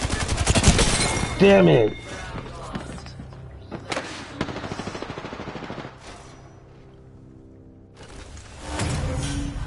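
Gunfire in the Apex Legends video game: a loud burst of rapid shots up front, then scattered thumps and shot sounds with game noise, while someone speaks briefly.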